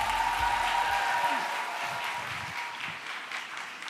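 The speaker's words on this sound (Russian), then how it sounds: "встречайте бурными овациями" Applause greeting singer Suzanna Svetlichnaya at a large student graduation opening ceremony, a dense crowd clapping that gradually thins, with a voice briefly over it early on.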